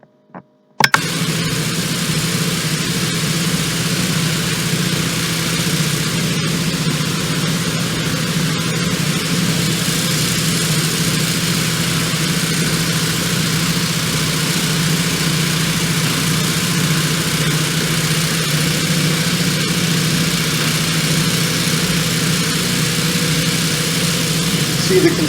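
An excavator engine runs steadily at a low, droning idle-like pitch while scooping dry ash, close and constant for the whole stretch after a brief start.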